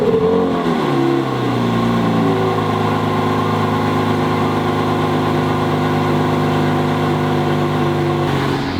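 Lamborghini SVJ on its factory exhaust fires up from cold, a loud rising roar settling into a steady, strong high idle that holds close and alone throughout.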